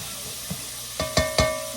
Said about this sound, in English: I'm gonna let that saute for a couple more minutes